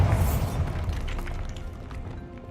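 Bombarda spell explosion in Hogwarts Legacy: a heavy boom at the start, then crashing debris and scattered pops that trail off and fade.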